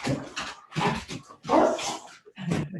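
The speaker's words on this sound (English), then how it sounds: "the dogs are acting up" Dogs in a home bark and whimper in short, rough bursts, several close outbursts with brief pauses between them, loud and rather distorted as if picked up by a nearby microphone.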